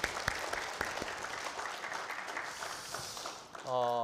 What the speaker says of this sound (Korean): 우리 박수로 하나님께 영광 돌리면 좋겠습니다